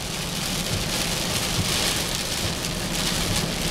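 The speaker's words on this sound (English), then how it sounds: "Am I driving into Tropical Storm Gordon?" Heavy rain pours down while driving into Tropical Storm Gordon in September 2018, a loud, dense, unbroken wash of water drumming on the car throughout, with no voices.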